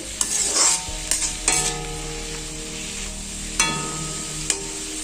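Lai shak greens stir-fried in a hot pan, with a steady sizzle underneath and a series of sharp scraping stirs and clanks of the spatula at irregular moments, close and fairly loud, with no talking.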